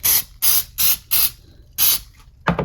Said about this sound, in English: I'm just going to spray the tops of that with the cooking spray